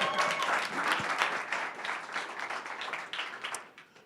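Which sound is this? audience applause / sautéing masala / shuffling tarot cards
audience applause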